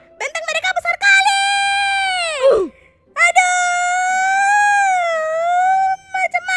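Two long, loud, high-pitched screams in Sakura School Simulator, the first rising then falling into a groan-like drop, the second held steady, with short talk between them.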